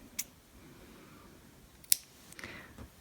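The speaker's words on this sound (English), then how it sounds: "then we can cut the yarn" Two or three crisp scissor snips cutting yarn during crochet work, close and quiet with a soft rustle between them.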